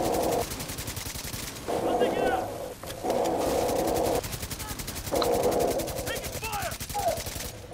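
Rapid automatic gunfire bursts in the video game Tom Clancy's The Division 2, several long rattling volleys separated by short pauses, loud and close, with voices speaking between and over the shooting.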